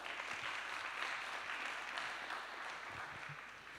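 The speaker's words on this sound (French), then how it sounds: "Ok, applaudissez-vous, vous êtes incroyables." An audience at an antiracist gathering applauds itself, a faint, distant, steady patter of clapping that slowly tapers off.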